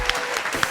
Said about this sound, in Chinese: 我们再次把掌声献给所有的演员。